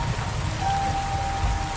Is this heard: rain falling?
yes